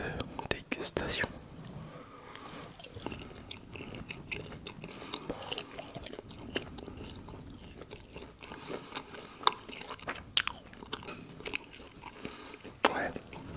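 Close, whispery mouth sounds of charcuterie being bitten and chewed during an ASMR tasting, with soft crunches and wet chewing scattered through, plus occasional quiet whispering.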